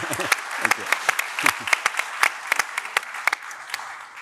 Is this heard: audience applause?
yes